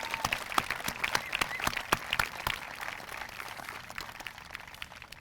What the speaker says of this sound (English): Let's give a round of applause for all of our President's Award recipients.